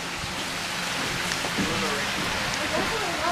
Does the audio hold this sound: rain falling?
yes